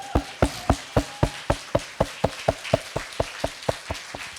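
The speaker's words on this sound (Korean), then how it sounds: "우리 그 하나님께 영광 박수 올립니다." Church congregation clapping in unison during a Wednesday worship service, a steady rhythmic beat of about four claps per second, loud and close, with no talking over it.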